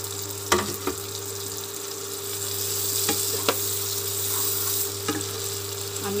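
Capsicum stir-frying over a high flame for chilli chicken, a steady loud sizzle with a few sharp clinks of a spatula against the pan, no voices.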